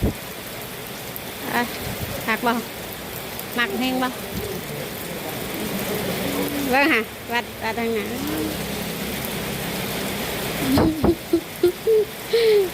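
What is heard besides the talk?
rain falling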